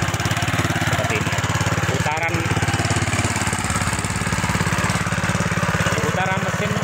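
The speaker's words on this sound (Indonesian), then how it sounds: "Putaran mesin sangatlah bagus ya" A steel-wheeled tiller engine chugs loudly and rhythmically while tilling a dry sweet potato field, its steady low pulsing close by with a faint voice briefly underneath.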